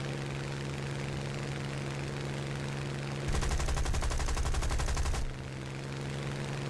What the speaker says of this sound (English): Using my machine guns to start him a bit.